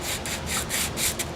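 A guitar nut rubbed back and forth on sandpaper, a quick series of close, rhythmic rasping strokes with no talking.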